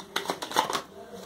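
Tarot cards are shuffled in a few quick, papery riffling bursts spread across about a second, soft and close with a quiet background.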